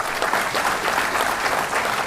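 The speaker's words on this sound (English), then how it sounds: "We need a bigger applause." At the IIM Bangalore Foundation Day ceremony, an audience applauds award recipients, with dense, continuous clapping from a large crowd that holds steady for a couple of seconds without any talking.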